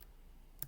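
A few quick keyboard spacebar presses fire shots in a simple spaceship-and-asteroids game, two sharp clicks close together near the end after quiet.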